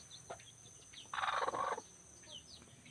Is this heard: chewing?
no